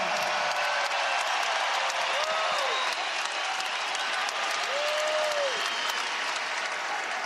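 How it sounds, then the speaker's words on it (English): Basketball arena crowd at a UConn versus Seton Hall game roaring and applauding for a player, a sustained loud wash of cheering and clapping, with brief whistle-like tones rising above it. "Listen to this crowd respond to Hassan Diarra."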